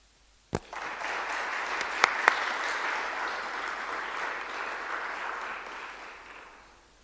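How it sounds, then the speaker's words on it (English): A huge burst of applause during an online kick-off meeting enters after a sharp click and runs as an even, dense roar of clapping for several seconds before tapering off, with no talking. "I hope you can hear the huge applause that you get"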